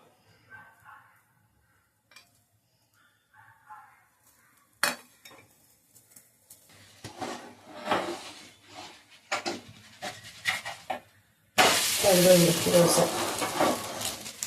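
Oil sizzling on a hot pan while dosa batter cooks, a bright hiss that swells in the final seconds after quieter clinks and stirring under someone speaking.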